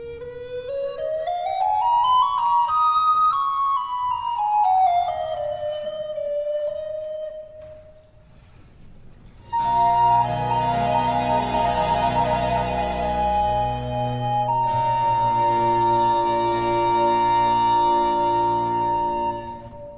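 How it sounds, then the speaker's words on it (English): Solo recorder playing a flowing melodic line near the close of the second movement of Bach's Brandenburg Concerto No. 4, then joined by strings and continuo in sustained closing chords, full and resonant throughout. "We also let that ending play out, and you heard that little recorder solo."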